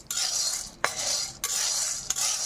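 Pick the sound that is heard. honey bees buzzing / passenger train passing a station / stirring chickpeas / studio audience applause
stirring chickpeas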